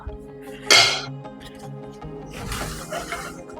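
A cooking pan is picked up and set down while preparing an American-style pizza, with a sharp metallic clank near the start and softer clattering and rattling afterward, close by with no talk.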